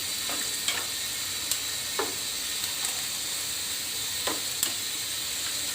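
Spice powders are stirred with onion and chili in a frying pan, a steady soft sizzle and hiss broken by occasional scraping strokes of the spoon, fairly quiet and close.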